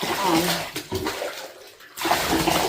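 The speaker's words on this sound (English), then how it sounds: "rinse them with the bath water first" Bath water is poured and splashed over a Maine Coon cat during grooming, a close, loud rush of water in two bursts with a short lull between, with a voice talking over it.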